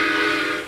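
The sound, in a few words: toy train engine whistle from Frosty the Snowman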